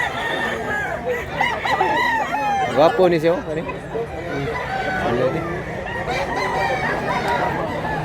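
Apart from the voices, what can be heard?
roosters crowing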